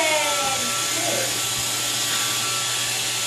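A Roomba robot vacuum runs on carpet indoors with a steady, buzzing motor whir close by, and people talk briefly over it near the start.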